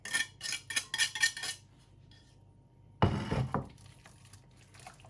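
A utensil stirs a cheese and sausage mixture with salt and sugar in a bowl, making a quick run of clinks and scrapes, a quiet pause, then a louder burst of mixing near the end.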